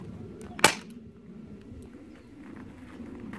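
A single sharp airsoft gun shot cracks once near the start in a backyard, then low outdoor ambience with faint birds continues alone.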